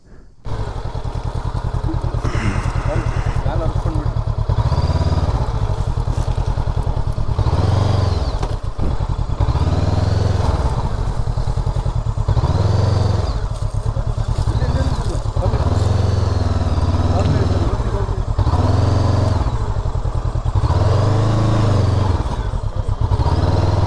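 Honda NX500 motorcycle ridden on a road, its engine droning steadily and loudly throughout with repeated pulses and clatter, under ongoing conversation from the riders.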